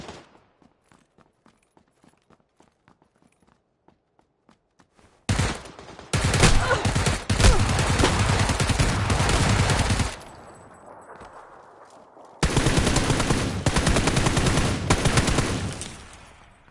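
Shotgun gunfire in PUBG on PS4 Pro: faint rhythmic ticking steps at first, then long stretches of loud, dense, continuous firing, broken by a quieter gap before another heavy burst.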